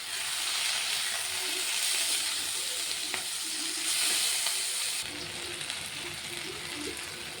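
Tomatoes added to capsicum sizzle and fry in a pan for chilli chicken, a steady close hiss with faint stirring taps throughout.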